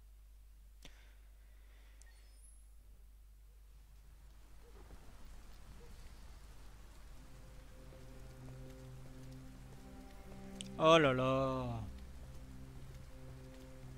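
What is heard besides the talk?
rain falling in the video game Detroit: Become Human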